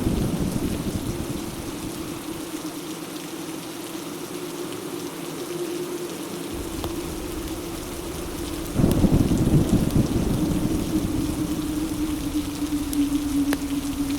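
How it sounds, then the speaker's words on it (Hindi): Heavy downpour drums steadily and loudly throughout, with deep rolling thunder rumbling underneath and a sharper crack of thunder partway through, no voices present. "मौसम ने ऐसा मोड़ लिया कि मूसलाधार बारिश शुरू हो गई"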